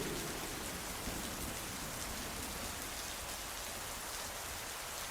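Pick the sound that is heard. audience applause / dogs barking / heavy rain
heavy rain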